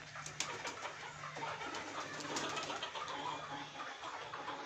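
A flock of pigeons coos continuously inside a loft, overlapping low rolling calls filling the space, close and fairly loud with no talking.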